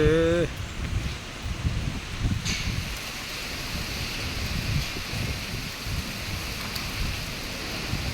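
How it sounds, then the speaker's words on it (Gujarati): Strong wind blowing through an open rural area during an unseasonal summer storm, a steady broadband roar with gusting surges and rustling; a brief burst at the start, no talking. "જો કેટલો પવન છે"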